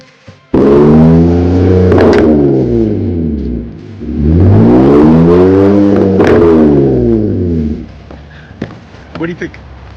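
BMW E60 525xi with muffler and resonator delete revving hard twice, each rev rising and falling loudly up close, followed by quieter idle with a few clicks, while someone talks over it.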